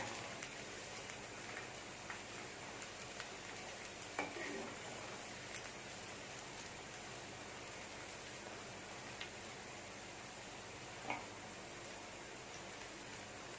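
Cauliflower and cashew pakoda deep frying in oil, a soft, steady crackling hiss held low and even throughout, with a few faint pops rising now and then.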